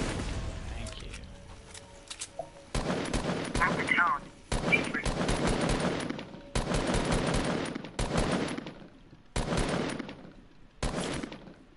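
Gunfire from the video game Fortnite rings out in several loud, dense bursts separated by short gaps, each volley rattling close and sharp.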